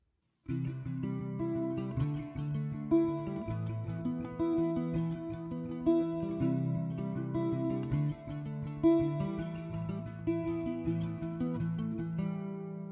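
Acoustic guitar plays a steady strummed pre-chorus chord progression for several bars, ringing clearly and close, with no voices.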